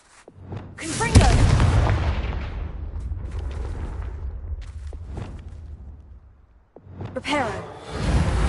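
Confringo fire spell blasts in Hogwarts Legacy, a sharp loud explosion with a deep rumbling tail, followed by further booming impacts and a second burst near the end.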